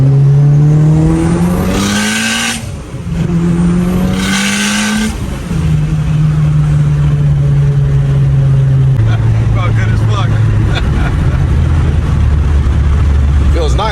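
A Mitsubishi Evo 8 on a test pass at full throttle with a fuel pressure problem roars loudly and close, its engine note climbing through gears with brief shift dips, while people talk over it.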